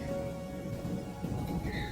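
Steady rain falls with a low, rumbling undertone of thunder, an even wash of sound that holds at moderate volume throughout.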